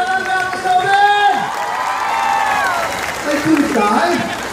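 Steady applause and crowd noise rise from an audience in Victoria honoring Noven Belleza, the clapping continuous and fairly loud while an amplified voice keeps talking over it.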